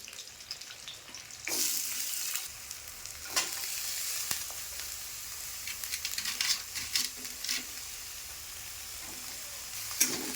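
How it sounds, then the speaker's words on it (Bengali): Small raw onions drop into hot oil and fry with a steady, close sizzle, broken by bursts of crackling and the scrape of stirring. "এবার এর মধ্যে এই ছোটি ছোটি ছোটি কাঁচা এই পেঁয়াজগুলোকে ওই তেলের মধ্যে ছেড়ে দেবো।"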